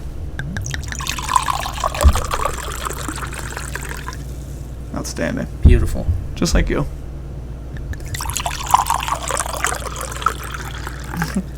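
Wine pours from a bottle into a glass in a small studio, a gurgling, trickling stream that comes and goes while people chat over it.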